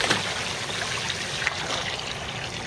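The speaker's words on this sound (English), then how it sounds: "All right, Lillian, I'm going to take the hose away from you if you don't stop playing with it." Thin, broadband splashing and trickling of water from a garden hose, with a soft steady patter throughout and a faint brighter splash near the middle; no voices.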